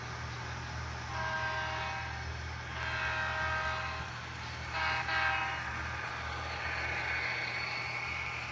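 Santa Fe freight train 99 passes at night behind a lineup of unique locomotives, its horn sounding in several long toots over a steady rumble of engines and rolling cars.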